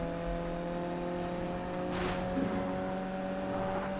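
A Ford Focus RS engine in the Need for Speed racing game hums at a steady, fairly quiet drone under faint game ambience, with a brief swell midway and no speech.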